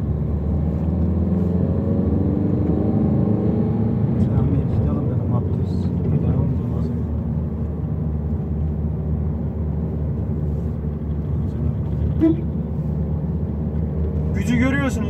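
A diesel Citroen C-Elysee accelerates on a village road, heard from inside as a loud, steady low engine rumble with rising drone, while someone talks over it.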